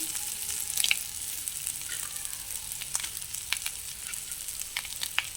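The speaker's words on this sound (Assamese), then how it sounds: "এতিয়া পিঁয়াজ দি দিম সৰু সৰুকৈ কটা" Finely chopped onions hit a pan of fried fish, setting off a steady, fairly quiet sizzle with scattered sharp crackles and pops spread through it, no talking.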